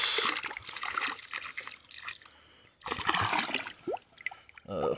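A round glass milk bottle drops into creek water, with splashing and sloshing bursts and trickling water, loud and close, pausing briefly before more splashing.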